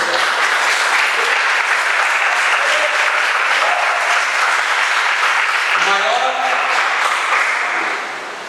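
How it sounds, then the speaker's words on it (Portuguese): A church congregation claps steadily and loudly for several seconds, a dense sustained applause with a voice rising briefly through it before it fades at the end. "Aplauda o Senhor, querido. Aplauda o Senhor."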